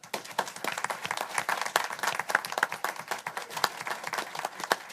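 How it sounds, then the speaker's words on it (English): A room of attendees at a city council session gives a round of applause, with distinct individual claps forming an uneven, moderately dense patter, fairly quiet and without talk. "I'd like for you all to give them a round of applause for the work that they do."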